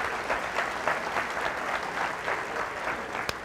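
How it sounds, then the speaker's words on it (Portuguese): A crowd at a leadership talk claps steadily and fairly loudly, a dense patter of hands holding an even level throughout with no voices on top. "Uma salva de palmas mais forte aí, gente, por favor."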